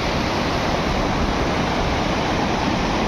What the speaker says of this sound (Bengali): নুরানাং ওয়াটারফলসের দেখুন এই সুন্দর করে জলগুলো চলে যাচ্ছে এদিক দিয়ে